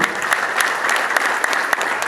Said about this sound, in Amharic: ስለ ጌታ ክብር ለእሳቸው አጨብጭቡ።